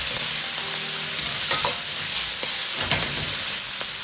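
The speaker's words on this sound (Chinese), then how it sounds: "保持中火，多翻炒几下，炒出猪皮里边多余的水分，把猪皮炒上颜色，炒出香味。" Pork skin stir-fried in a wok over medium heat gives a steady, loud sizzle, with spatula scrapes and stirring clatter breaking through now and then.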